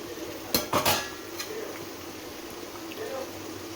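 A utensil stirs potatoes with capsicum in a cooking pan, giving a few quick metallic clinks and scrapes early on, then a quiet, low simmering background.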